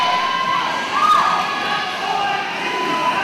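A loud roller derby crowd roars and cheers continuously in an indoor arena, dense and close with shrill shouting voices rising and swelling throughout.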